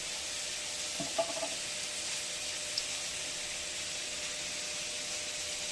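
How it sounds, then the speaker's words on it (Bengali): Nigella seeds for tempering sizzle in hot oil with a steady, moderately loud broadband hiss that runs the whole time, joined by a couple of faint clicks near the start. "এবার আমি এর মধ্যে দেব একটু কালো জিরে ফোড়ন।"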